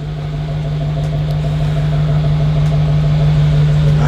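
The original 305 engine of a 1992 Chevy Camaro RS idles steadily with a close, loud, even hum and a strong low drone, and no one speaks over it.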